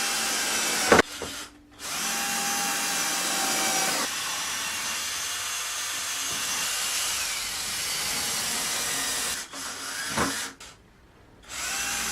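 A cordless power drill drives screws into wood for a tape rack on a mobile tool storage unit, with two sustained whirring runs broken by short pauses and clicks, close and loud with no speech.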